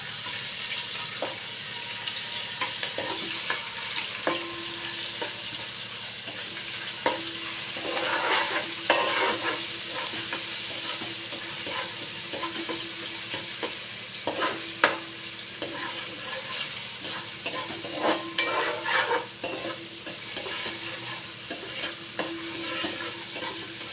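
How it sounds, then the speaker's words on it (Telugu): Ingredients for a Telugu brinjal masala curry sizzle steadily in a pan, with the hiss running throughout. Repeated scraping strokes of a spoon stir the food, and no voices are heard. "దీన్ని కూడా మంచిగా ఫ్రై చేద్దాం."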